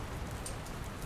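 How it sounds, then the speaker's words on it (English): Steady rain falls in a video game as a soft continuous hiss of drops, even and quiet throughout with no voices. "I don't think it's supposed to still be raining"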